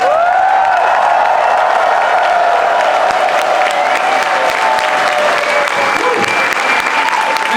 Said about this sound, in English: not just Luca and Fidget, for all our dancers crowd, make some noise one more time.